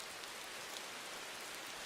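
Steady rain falls as a soft, even hiss of many droplets, fairly faint and continuous throughout with no voices.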